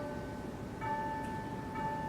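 Faint tubular bells imitating distant church bells ring out with sustained, steady pitches over a soft background hum, a couple of strikes blending together.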